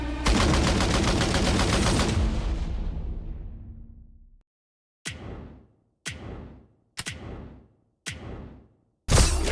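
Gunfire in the TDS video game story mode: a long burst of rapid shots that fades out, then several sharp single shots with short echoing tails, loud and without talk.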